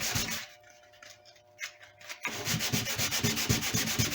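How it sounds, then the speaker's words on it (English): Light sandpaper rubbing by hand on a redwood guitar body behind a glue repair, a faint scratch at first, then a steady, close run of rapid rasping strokes that grows louder in the second half. "Take a light sandpaper, sand behind the repair, make some dust."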